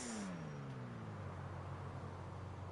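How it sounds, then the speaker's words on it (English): A car brakes hard in GTA Online on a snowy road, its engine tone dropping steadily as it slows, with a faint noise bed and no talk. "And now slam on the brakes."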